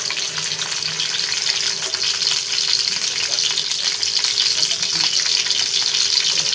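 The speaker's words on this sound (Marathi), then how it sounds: "अशा आपण मिरच्या तळणार आहे बघा" Steady, crackling sizzle of green chillies frying in hot oil on a flat griddle pan, continuous and close throughout with no talking.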